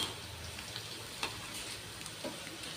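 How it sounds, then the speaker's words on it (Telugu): Pieces of battered bitter gourd fry in hot oil for a crispy snack, a constant soft sizzle with a few small pops and ticks, alone with no talk. "ఇప్పుడు మాడిపోకుండా చక్కగా దోరగా వేగుతాం"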